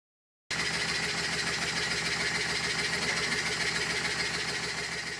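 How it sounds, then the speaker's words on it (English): A Stuart No. 9 horizontal steam engine drives a small water pump, starting after a brief silence and then chugging in a fast, steady, even rhythm at moderate volume. "In this next clip, the engine is running."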